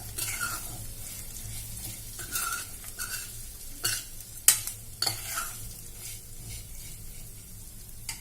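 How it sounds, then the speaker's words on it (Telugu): Flattened rice (poha) and nuts frying in ghee, with a low steady sizzle, soft stirring scrapes and a few sharp clinks of a spoon against the pan, fairly quiet and without talk. "ఈ నట్స్ వేసిన దాంట్లోనే అటుకులు కూడా వేసి ఈ నెయ్యిలో దూరగా అటుకులను కూడా వేయించుకోవాలన్నమాట"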